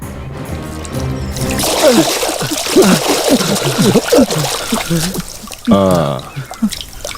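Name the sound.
water being poured on a sleeping person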